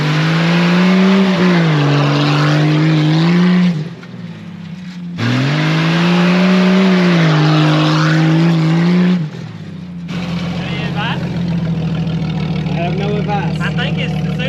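A Jeep off-roading with its back end spinning out, the engine droning loud and steady in two long revving bursts, then dropping to a lower rumble, with people talking over it.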